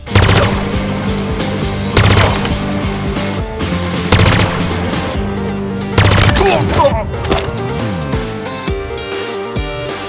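Pulse Carbine fire in the shooter game Halo Infinite: loud, rapid bursts of energy-weapon shots repeating in clusters over about ten seconds, with electronic whines and impact crackles between them.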